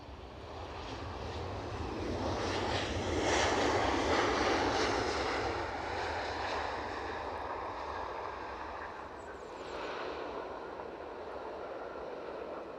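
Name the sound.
EasyJet aircraft approaching Edinburgh Airport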